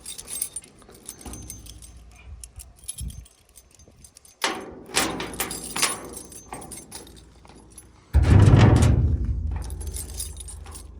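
A wooden farm door to a horse enclosure creaks and thumps open with rattling, clattering bursts, then a loud heavy scrape and bang near the end.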